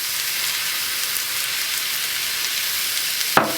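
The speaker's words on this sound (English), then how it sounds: "While the meat is cooking over there on high heat" Ground meat sizzles steadily in a pan over high heat, a loud, continuous frying hiss with a short sharp clatter near the end and no talking.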